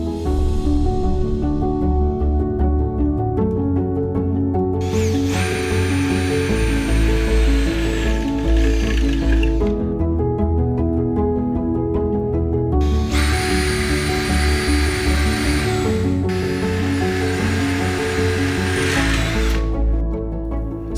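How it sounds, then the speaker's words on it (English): A power drill pre-drills holes in aluminium roof lantern ring beams in two sustained whining bursts separated by a pause, over a continuous background hum. "Continue to mark and pre-drill all ring beams in a similar manner."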